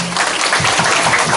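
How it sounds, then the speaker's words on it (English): A brief burst of audience applause welcoming guest Dr. Nino Francisco, the president of P100 Bulacan, a loud, dense wash of clapping hands. "Please give him a big round of applause"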